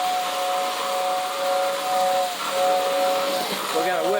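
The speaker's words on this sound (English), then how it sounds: "We're going to whistle because it's going so fast." Whistle of a Lionel 2046 postwar toy steam locomotive pulling a 1953 freight set, a sustained breathy two-tone hoot held over a steady hiss as the train runs fast around the layout, close by.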